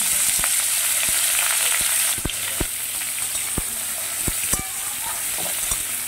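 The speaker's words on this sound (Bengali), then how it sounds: "দিয়ে দিচ্ছি ফুলকপি। শুরুতে ফুলকপিগুলো হালকা ভেজে নেব।" Cauliflower florets fry in ghee with cumin in a pan, giving a loud, steady close sizzle throughout, broken by sharp intermittent clicks of a spatula tapping and stirring.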